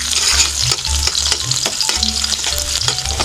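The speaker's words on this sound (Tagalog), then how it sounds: "Isabay na ako og luto ang sili." Chili peppers frying in a pan beside sayote give a loud, constant sizzle, with rhythmic scraping and knocking of a utensil stirring against the pan.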